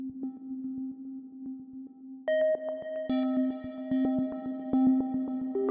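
Arturia Pigments software synth plays a held chord as a rhythmic sequence, steady pulsing notes with stacked tones thickening midway, washed in reverb and echoing delay, alone with no voices.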